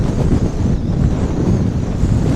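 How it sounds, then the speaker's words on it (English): Strong wind buffets the microphone on a cold fishing outing, a loud, steady roar of low rumble that fills the whole stretch without pause and drowns out everything else. "that wind is absolutely brutal"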